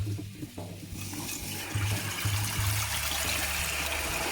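Cold water rushes and splashes steadily over drained ramen noodles for several seconds, growing fuller partway through, with a low hum underneath.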